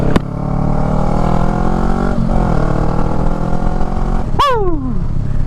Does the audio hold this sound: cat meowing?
no